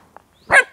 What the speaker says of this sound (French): Ça, c'est mon chien qui joue.